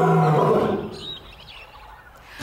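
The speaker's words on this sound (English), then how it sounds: "Or a leopard growling." A leopard growls with a loud, close, rough roar that fades over about a second, followed by a quieter tail with faint bird chirps and no talk.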